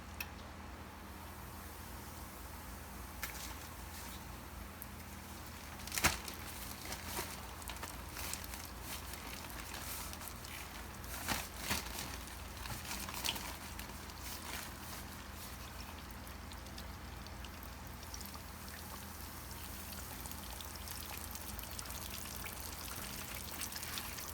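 Pieces of catfish frying in a pan of hot oil for Southern fried catfish, giving a steady close sizzle with scattered louder pops and crackles throughout.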